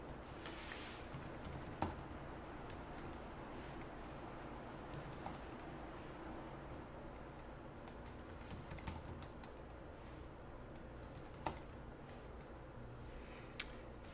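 Steady typing on a computer keyboard while entering Visual Basic code, soft continuous key clicks with a few sharper taps, close and fairly quiet, no talking.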